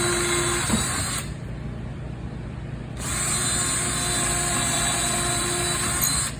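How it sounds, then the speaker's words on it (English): A power drill bores holes through plywood, the bit fed gently: a steady, close, high-pitched whine that drops out briefly midway, then resumes at an even level, with no voices. "Okay, drill your 4 holes."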